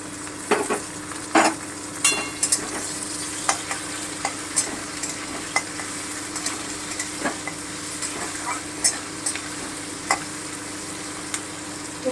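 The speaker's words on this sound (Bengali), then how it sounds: "একটুখানি ভেজে নেব আমি এই যে ক্যাপসিকামটা টমেটোটা প্রায় ভাজা হয়ে এসেছে" Capsicum and chopped tomato fry in oil in a pan for a paneer dish, giving a steady, close sizzle with regular scraping and stirring clicks and a low background hum. No one speaks.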